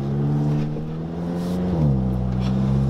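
A Subaru WRX engine drones steadily while driving with the windows down, its pitch holding then dropping slightly as it shifts, heard up close from inside the car.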